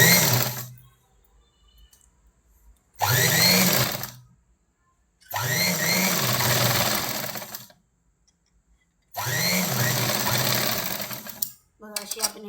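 A sewing machine stitches a fabric strip onto a sleeve design in three close, loud bursts of rapid whirring, separated by short silences, with a brief clatter at the end.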